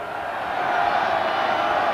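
A rugby match crowd at a Barbarians game roars in a steady, swelling wash of noise, distant and sustained, with a commentator's voice faintly mixed under it.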